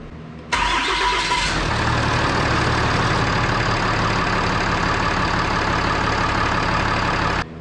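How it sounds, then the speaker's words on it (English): A Ram 3500 with the 6.7L Cummins diesel cranks and fires after an oil service, catching quickly and then settling into a steady, loud, even idle that runs on without people talking. "So now we're going to fire it up, let it run a minute, check for leaks."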